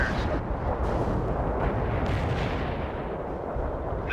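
Artillery fire in the World in Conflict war game: a dense, continuous rumble of distant barrage booms rolls without pause across the whole stretch, steady and loud with no clear breaks.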